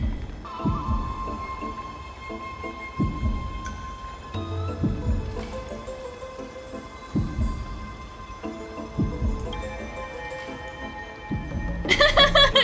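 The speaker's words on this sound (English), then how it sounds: "I still hate that heartbeat." A game heartbeat from Honkai Star Rail thumps as slow, deep, evenly spaced pulses under a layer of sustained music and ambient hum, ending in a brighter burst of sound.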